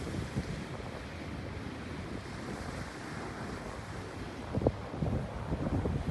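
Lodos storm waves pound the İskenderun coast in Hatay amid strong wind, a continuous rushing surf roar with heavy wind buffeting the microphone and a few sharper splashes near the end.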